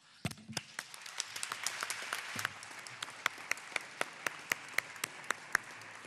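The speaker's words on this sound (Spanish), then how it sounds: "vamos a cerrar esta mesa con otro aplauso" Audience applause closing a panel session at a forum on Argentina's regions, starting as a dense burst of claps and thinning to a few scattered, sharp individual claps by the end.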